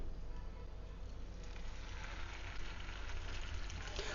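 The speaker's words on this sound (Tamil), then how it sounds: "இதை போட்டு அப்படியே வறுத்துக்கலாம்" Fish sizzles in hot oil in a pan, a soft, steady crackling hiss that stays faint and even throughout.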